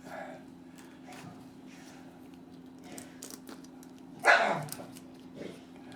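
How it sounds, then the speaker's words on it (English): A single sharp dog bark rings out, fairly close, over a quiet room with a low steady hum. "What are you barking at, Belle?"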